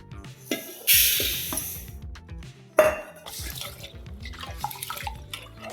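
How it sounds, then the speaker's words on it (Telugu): Rice being washed: water splashes and swirls in a vessel, with a couple of louder sloshing pours and small clinks, close by and without talk. "ఇలా నీట్గా అయితే రెండు సార్లు కడిగేసుకొని పక్కన పెట్టేసుకుందామండి"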